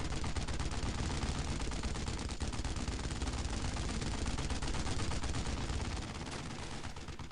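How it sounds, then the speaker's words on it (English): Sustained machine gun bursts and heavy gunfire roar densely through a Brothers in Arms: Road to Hill 30 World War II battle, with tank fire mixed in and the din easing slightly near the end. "we just need to wait for the tanks to finish off that machine gun"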